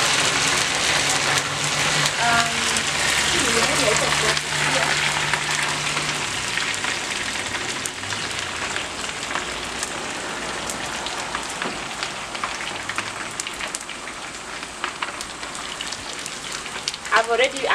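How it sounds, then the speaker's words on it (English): Omena fish deep frying in a lot of oil, a loud, dense sizzle and crackle that runs steadily throughout, with faint voices underneath. "I'm already putting so much omena on the oil."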